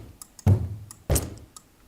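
Two heavy stomps from a group of people on a big wooden stage land about half a second apart, each a short, dull, boomy thud that fades quickly, with faint ticks in between.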